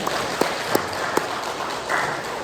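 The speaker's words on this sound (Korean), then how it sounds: "우리 격려 박수 한번 해드릴까요?" Church congregation applauding in encouragement, a steady roomful of clapping with a few louder individual claps standing out, continuing throughout the short stretch.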